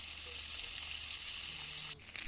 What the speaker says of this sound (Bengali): এবার একটু অল্প লবণ আর হলুদ দিয়ে ডিমগুলোকে ভেজে নিচ্ছি।